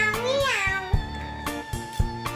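A child imitating a cat, drawing out a rising-and-falling meow, with soft thumps in the background.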